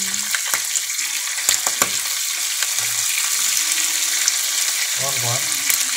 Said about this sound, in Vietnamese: Rán vàng ngon quá.